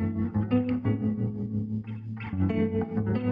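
Chopped electric guitar sample loop from the Sunset pack, rearranged over eight bars, plays alone with effects-heavy, distorted tone and echoing chorus, choppy rhythmic stabs and sustained notes at steady loudness.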